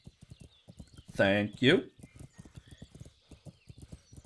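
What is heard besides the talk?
horse galloping hooves in Kingdom Come: Deliverance video game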